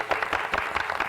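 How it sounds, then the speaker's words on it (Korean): A crowd at a summit event breaks into brief, dense applause, with many overlapping hand claps, close and fairly loud. "박수 한번 칠까요?"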